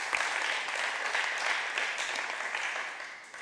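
A game-show studio audience applauds, a sustained wash of many hands clapping at a steady, fairly even level that tapers slightly at the end, with no speech over it.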